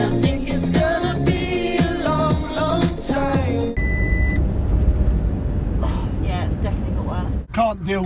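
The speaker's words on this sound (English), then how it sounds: "Can't deal with this beeping sound from the sensor on the rear doors" A rear-door sensor alarm on a camper van sounds a sustained electronic tone that rings over loud, busy foreground sound, with a voice talking nearby.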